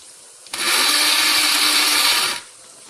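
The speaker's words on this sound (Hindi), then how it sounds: "ब्लेंड कर लूँगी, अच्छा सा इसका पेस्ट बना लूँगी।" A kitchen blender grinds onion with a little water into a paste, a loud, steady, high-pitched whir that starts abruptly and runs for about two seconds before cutting off, with no talk over it.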